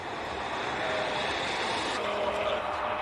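A 2.5 litre five-cylinder race car engine climbing a hill at a hillclimb event, a distant, moderately faint engine note rising and carrying steadily, with a slight shift partway through.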